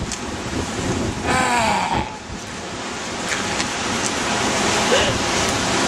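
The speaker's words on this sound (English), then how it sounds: "And now I will calm the wind." Steady wind rushes continuously across an open outdoor spot, buffeting the microphone at a fairly loud, even level with a few brief swells throughout and no talking.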